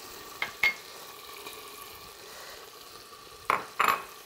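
Onions fry quietly in melted butter in a single pot, a soft steady sizzle with a few sharp metallic clinks from a utensil against the pan.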